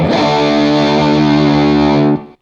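Electric guitar with a tone through ToneX and an AmpliTube cab rings out as one loud, saturated, distorted sustained note or chord, holding steady for about two seconds before cutting off abruptly.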